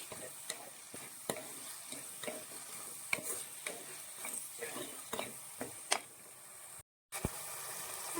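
Fish curry masala with salt sautéing in a pan, a steady low sizzle broken by repeated stirring scrapes and clicks, close and moderately quiet, with a brief gap near the end.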